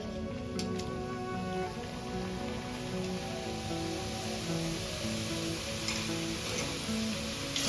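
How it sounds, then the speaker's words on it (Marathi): Khare shankarpale, salted flour pastry pieces, fry in hot oil with a dense, steady crackling sizzle that stays loud and close throughout, over a faint electrical hum. "या स्टेजला मी शंकरपाळे ऍड करून घेणार आहे ऑइलमध्ये"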